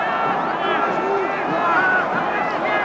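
A disappointed crowd at a rugby test match between South Africa and France in a Johannesburg stadium, reacting to a free kick with a loud, sustained groaning murmur and scattered whistles under a commentator's voice.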